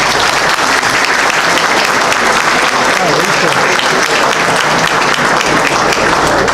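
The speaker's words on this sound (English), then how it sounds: "So first I want to give Mark a round of applause." Sustained applause from an audience at an organizational presentation, dense steady clapping at full level throughout, with a faint undercurrent of crowd murmur.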